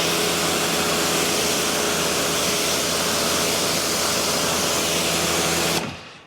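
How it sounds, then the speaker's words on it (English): A pressure washer sprays a steady, loud, broadband hiss close up as it rinses dirt off a Swisstrax modular garage floor, then stops abruptly near the end. "all I do is grab my pressure washer here when I go home and I just rinse this"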